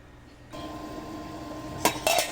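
A lid goes onto a pot of tamarind chicken soup simmering on the stove: steady low bubbling, then two quick metallic clanks of the lid settling near the end.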